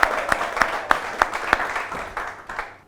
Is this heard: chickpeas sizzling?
no